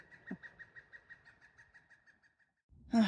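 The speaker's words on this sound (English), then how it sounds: "And a woodpecker saying hello." A woodpecker calls on a hilltop along the Appalachian Trail near the Eastern Pinnacles, giving a clear series of about a dozen evenly spaced notes that slowly fade, then a brief rustle at the end.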